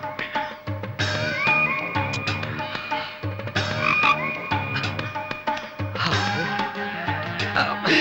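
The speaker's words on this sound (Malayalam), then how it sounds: "ഏമ്പക്കം വിട്ട തവളയുടെ ശബ്ദം" Frog croaking in a Malayalam comedy horror film scene, loud and close, a busy chorus of repeated throaty croaks and warbling calls running continuously over low background tones, with no speech.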